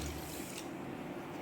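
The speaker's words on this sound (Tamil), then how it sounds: "2 கப்பு சர்க்கரைக்கு 1 கப்பு தண்ணி ஊற்றிக்கலாம்." Water is poured onto sugar in a pan for motichoor laddu syrup, making a short, faint liquid trickle with no speech.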